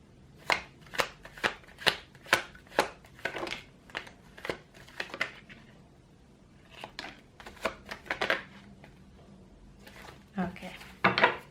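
Tarot cards being shuffled for a card pull, in sharp, close riffling bursts that come in several separate runs with short pauses between them.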